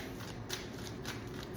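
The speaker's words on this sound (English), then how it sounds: "Y'all see me shuffling." A deck of tarot cards is shuffled close up in a quiet room, with soft repeated riffling and papery slaps carrying on steadily throughout.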